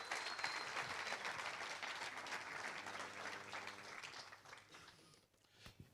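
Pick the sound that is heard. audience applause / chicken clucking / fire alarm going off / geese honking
audience applause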